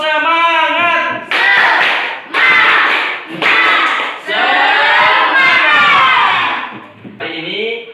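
A classroom of children performs a spirit clap routine, voices chanting loudly together in short bursts, with claps mixed into the rhythmic, repeated phrases.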